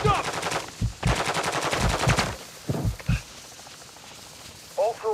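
Gunfire in a DMZ match: rapid machine-gun bursts close by, repeated in clusters over the first few seconds, with voices talking between and over the shots.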